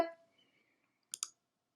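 Two quick, close computer mouse clicks sound in rapid succession after a brief bit of fading talk.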